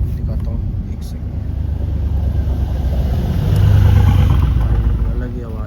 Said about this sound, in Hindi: ये देखो गाड़ी, क्या गाड़ी आ रही है यार, मस्त गाड़ी आई है।